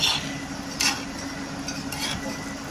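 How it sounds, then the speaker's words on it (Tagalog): Steady sizzling of hot oil in a frying pan with chicken pieces, close up, with a few brief clinks of a utensil against the pan. "kumukulo-kulo po ang mantika."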